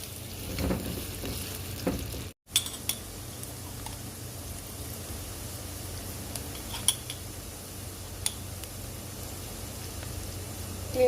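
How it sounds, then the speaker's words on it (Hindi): Finely chopped onions frying in hot oil for an achari chicken recipe, a steady broadband sizzle throughout with occasional light clinks of a utensil against the pan and one brief dropout. "ऑयल गर्म हो गया, अब हम इसमें ओनियन जो मैंने बारीक बारीक काट लिया ये ऐड कर देंगे।"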